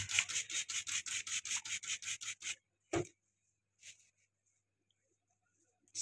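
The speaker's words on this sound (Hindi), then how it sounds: "यहाँ पे मांस वैसे टाइट खींचना है और ऐसे अस्तूरा चलाना है" Straight razor scraping beard stubble on skin pulled tight, a quick rhythmic series of about fifteen close crisp strokes, then a couple of isolated strokes and quiet.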